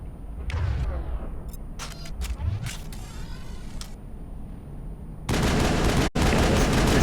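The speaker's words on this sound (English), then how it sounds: "Avenger assault rifle. Ah, the classic M8 Avenger." M8 Avenger assault rifle in the video game Mass Effect, with mechanical creaks and scattered shots giving way to a sustained, loud burst of automatic gunfire.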